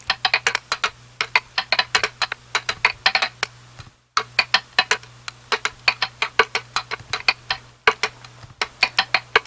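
A crunchy hi-hat processed with multiband distortion ticks in quick repeating bursts over a low hum, stopping briefly twice before resuming the same pattern.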